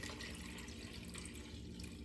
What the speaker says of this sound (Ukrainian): Ось стільки само вливаємо водички.